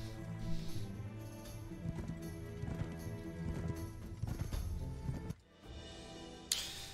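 A horse's hooves clip-clop at a slow, even pace as it is ridden closer in the fantasy game Might and Magic Heroes 6, with the footfalls sitting under sustained background music.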